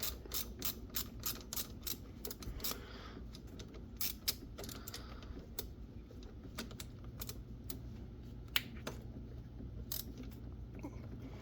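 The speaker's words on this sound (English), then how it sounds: "With this loose, I was able to get my ratchet on there." A ratchet clicks rapidly in quick bursts while loosening a fastener on the carburetor of a 2018 EZGO golf cart, close and fairly quiet, with short pauses between runs and a low steady hum beneath.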